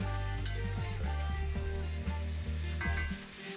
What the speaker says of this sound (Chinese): 就这样一直把鸭肝煎到半熟，